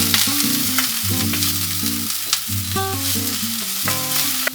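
Sliced leeks frying in a pan give a continuous bright sizzle with occasional crackles, heard over soft background music, with no one speaking.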